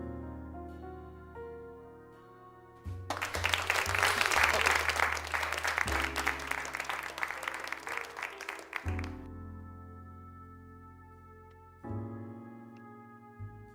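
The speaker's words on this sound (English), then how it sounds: "Must always applaud your theater people." Applause from an audience in the video game Rusty Lake Theater, a burst of clapping that rises over a soft musical background, holds for several seconds and then cuts off.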